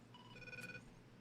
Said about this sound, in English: He's got a crazy phone sound.